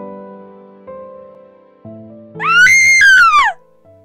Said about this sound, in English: The screaming was what woke me, echoing screams full of pain.